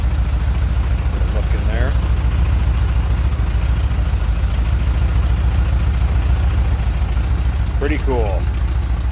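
A 1973 Porsche 914 with a 1.7-liter flat-four idles smoothly and steadily throughout, a close, even low rumble, while someone talks briefly over it.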